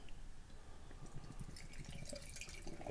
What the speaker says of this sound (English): let's get it into the glass.